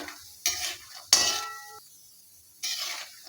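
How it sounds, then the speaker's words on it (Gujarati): Peanuts being stirred and sautéed in a pan for poha chivda, three short bursts of close scraping and rattling with a faint sizzle between them, no talking. "સિંગદાણાને થોડા સાંતળી લઈએ"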